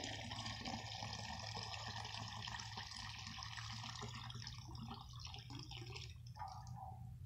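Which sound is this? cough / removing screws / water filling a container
water filling a container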